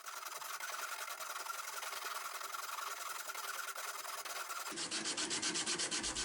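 Steady coarse rasping of a wood rasp scraping across a hatchet handle, continuous and close, shifting to a faster rhythmic stroke near the end.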